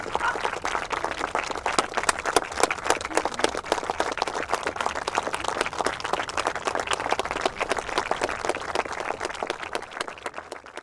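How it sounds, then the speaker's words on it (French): A crowd at a memorial tribute applauds steadily for around ten seconds, many hands clapping at once in a dense, even patter. "faire un grand applaudissement pour nos 3 jeunes filles"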